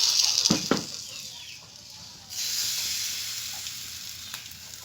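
Semolina pakora batter hits hot oil and sets off a loud, steady sizzle with a few sharp spatters at the start, then the frying swells again and keeps crackling evenly.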